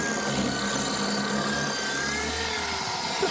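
Power drill fitted with an ARTU multi-material bit grinds continuously, a steady loud whirring drone from close by with no pauses and no voices.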